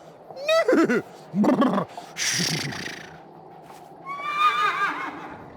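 A horse gives a few whinnies and neighs in short rising and falling bursts, close and loud, with breathy snorts between them and a final shrill whinny.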